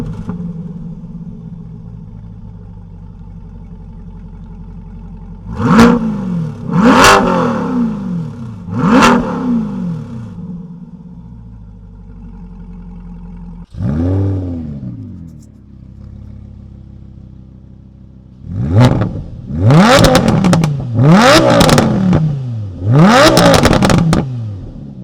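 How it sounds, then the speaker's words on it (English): A Chevrolet Corvette C8 Stingray with a Borla exhaust idles loudly, then revs in sharp bursts, three quick blips, a lone rev, and a final cluster of hard revs over the steady idle rumble. "We're gonna do some revs and we're gonna do some drive-bys."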